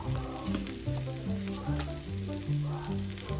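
Seasoned steaks sizzling in olive oil in a hot pan as they are flipped, a continuous close crackle with a low electrical hum and occasional utensil scrapes, no voices.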